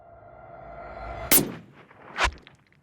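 A single loud rifle shot cracks out during a mountain hunt for wild goat in Iran, with a strong echoing boom rolling back about a second later over quiet background.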